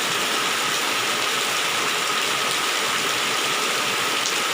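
Heavy rain pours steadily at night in front of a village house, a dense, continuous wash of hiss that stays loud and unbroken with no voices.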